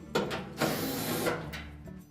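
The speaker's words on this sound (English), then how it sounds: "It's held to the blower housing with 4 screws. We just remove those." Screws being backed out of the inlet duct on a Whirlpool dryer's blower housing, giving close, loud bursts of mechanical whirring and ratcheting in several separate runs with brief pauses between them.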